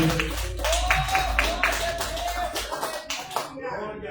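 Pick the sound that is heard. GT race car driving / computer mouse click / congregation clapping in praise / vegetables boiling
congregation clapping in praise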